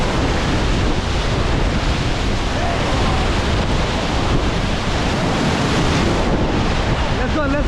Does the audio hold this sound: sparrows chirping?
no